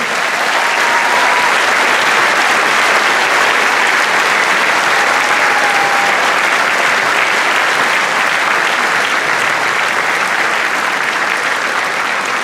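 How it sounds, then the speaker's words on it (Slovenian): Loud, sustained applause from a large audience at a music presentation event in Krško, Slovenia, a dense even roar of clapping lasting throughout. "Dajmo še en velik aplavz."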